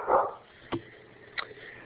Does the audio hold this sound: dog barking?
yes